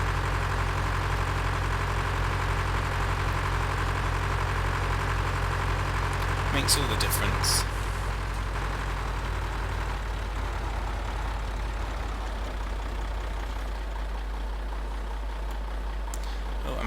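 A tractor engine idles in Farming Simulator 2013, a steady low drone that continues throughout while someone talks over it, with a brief clatter midway before the engine settles slightly quieter.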